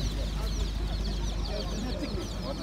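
Chickens and roosters cluck and call at a busy poultry market in Taşköprü, Kastamonu, a dense layered clamour of birds with voices mixed in the background.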